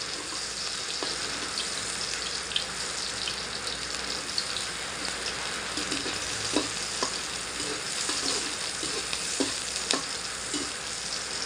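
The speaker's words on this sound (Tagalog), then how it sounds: "gigisa muna natin yung mga yan" Ingredients are sautéed in a hot pan, a steady close sizzle and fry with occasional stirring scrapes and clinks, running continuously with no talk.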